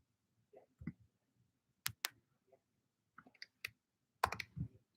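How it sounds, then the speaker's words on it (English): Scattered keyboard keystrokes click in short irregular bursts, close and fairly quiet, with pauses between clusters. "I'm just typing into the other chat the definitions really quick."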